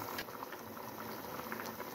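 Two kilograms of white chicken karahi bubbling in a pot, a soft, steady simmering patter heard close and faint with no voices.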